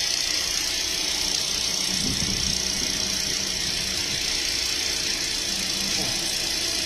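A car engine idles steadily with a faint ticking fault running through it, recorded close up, with a brief low thump of handling noise and some speech-like murmur in the background.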